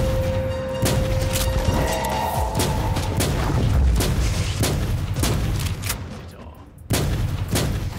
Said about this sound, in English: Definitely want to use the sniper rifle.